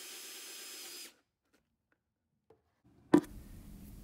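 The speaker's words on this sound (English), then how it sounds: "I want to drill through the outer plastic and through the insulation" A power drill whirs steadily for about a second through the outer plastic and insulation of an Opal ice machine, then stops; after a pause a sharp knock is followed by a quieter rumble.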